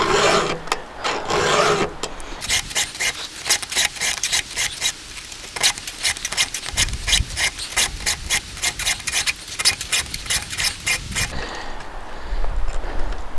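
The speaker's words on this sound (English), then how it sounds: "For the most part, when you're filing, you can pretty much follow the edge of the tooth" A hand file rasps rhythmically across chainsaw chain teeth during sharpening, a steady run of close, scraping strokes repeated many times with no talk.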